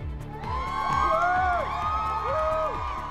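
A Windsor crowd cheers and whoops for the royal groom and best man, a loud sustained roar of many voices with high shouts and rising calls layered on top.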